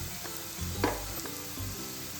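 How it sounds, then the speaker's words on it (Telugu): Green chilies and curry leaves sizzle in oil with fried onions over a low flame, a steady close crackle broken by a few stirring scrapes, with no talk. "2 పచ్చిమిర్చి, కొంచెం కరివేపాకు వేసుకొని చిన్న ఫ్లేమ్లో వేగాలండి"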